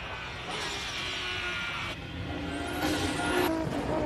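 A Nissan R32 racing up the Simola hillclimb course, its engine note steady and fairly loud as the car approaches, rising toward the end with no talk over it.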